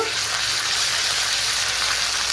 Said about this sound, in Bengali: পেঁয়াজ কুচি দিয়ে একটু নেড়ে নেব আদা রসুন বাটা দেব এটাকেও একটু নেড়ে নেব